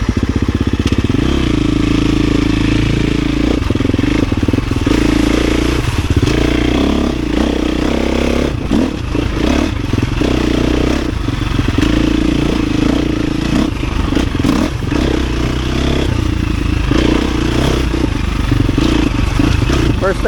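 A 350 dirt bike ridden hard, its engine droning loud and steady throughout with rising revs and heavy engine braking on deceleration, plus clattering and scraping from the trail, all close to the rider.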